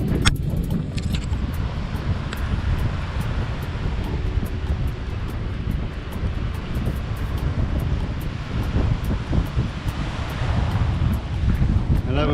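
Strong wind buffets the microphone on a beach at Punta Cana in the Dominican Republic, a steady loud roar blended with surf, continuous and without any voices.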